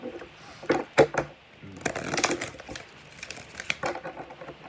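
Close, crisp riffling and soft snapping of cards being shuffled, in quick bursts with a longer flurry of shuffling in the middle.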